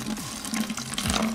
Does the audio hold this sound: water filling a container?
yes